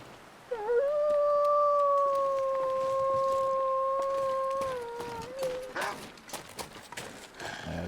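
A single wolf howls in a survival video game, one long sustained wavering howl held for about four seconds and then dropping away, with faint ambient game sounds before and after.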